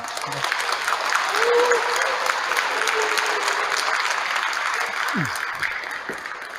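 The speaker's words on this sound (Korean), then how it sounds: "큰 박수로 모시겠습니다" Inside a large Catholic church, an audience claps steadily to welcome a film director and foundation chairman, a sustained crowd applause with a brief voice near the start and others beneath.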